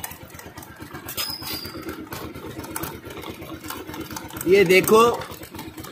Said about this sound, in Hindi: बाइक स्टार्ट दिया हुआ है, दोनों रोलर घूम रहा है।